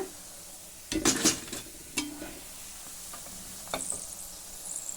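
Raw banana pakoda cooking in hot oil: sharp bursts of crackle and stirring clatter around the first and second seconds, then a low steady sizzle with a few faint scrapes, close by with no talking.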